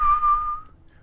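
Short steady whistled note from a character in the video game The Witcher 3: Wild Hunt, lasting about half a second before fading, alone and fairly clear.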